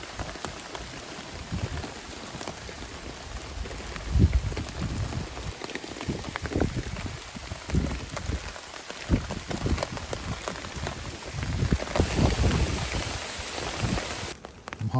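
Heavy rain pours down outdoors on a Lake District fell, a dense, steady hiss and patter of drops striking nearby surfaces for the whole stretch, swelling louder in bursts, with no voices.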